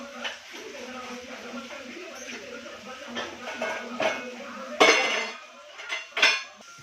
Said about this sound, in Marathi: झाले बाबा भांडे घासून तर पटापटा घेऊन घेते